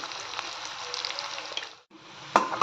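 Onions with salt sauté in a pan with a close, bright sizzle and crackle, briefly cutting out before resuming with a sharp spatter.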